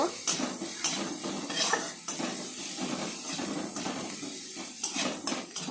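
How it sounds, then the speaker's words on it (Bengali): Chopped onion frying with five-spice seeds, turmeric and salt in a pan: a soft background sizzle beneath frequent clinks and scrapes of a spatula stirring against the pan, close and continuous, no one speaking. "পেঁয়াজটা হালকা করে ভেজে নিতে হবে"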